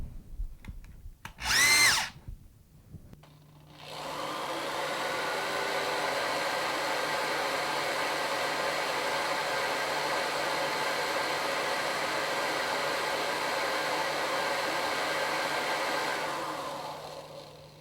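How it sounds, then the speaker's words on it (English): A power drill whirs steadily for about fourteen seconds after a brief higher-pitched burst, with a faint grinding texture as a file shapes a dome on the head of the spinning screw. "We can put the screw now into the drill to spin the screw and file a dome"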